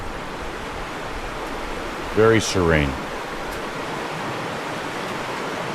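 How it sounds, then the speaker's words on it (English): Constant rushing hiss of the flowing Guadalupe River fills the scene, with someone briefly speaking over it midway. "Hear that water?"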